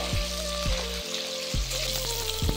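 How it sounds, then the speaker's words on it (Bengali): Potatoes fry in hot oil in a pan, making a steady, close sizzle with occasional louder bubbling pops and no voices. "আলুগুলিকে আমি লাল লাল করে ভেজে নেব।"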